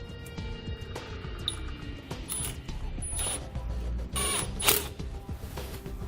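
A trailer connector clamp bolt tightened with a 5/16 socket, giving repeated close mechanical ratcheting clicks and metal scrapes in an irregular rhythm, with a few brighter metallic taps.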